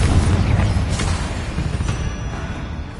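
A Confringo blasting spell in Hogwarts Legacy detonates as a loud, booming explosion, its deep rumble filling the whole clip and rolling with crackling bursts near the one- and two-second marks.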